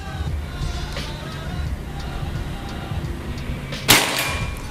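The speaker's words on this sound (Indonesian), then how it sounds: "Tembakan ketiga" A single sharp PCP air rifle shot (Bocap Predator Pajero Gun Gen 6, slug barrel) at a 50-meter range snaps out near the end, after a stretch of low background rumble and faint outdoor noise.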